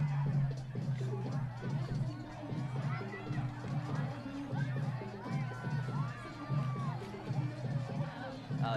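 Dense crowd noise fills a high school football stadium during a game between FHS and Worthington, a steady babble of chatter and scattered shouts with voices in the stands and occasional cheering, continuous throughout.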